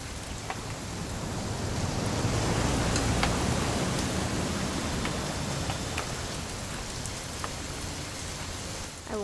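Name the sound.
rain from video game What Remains of Edith Finch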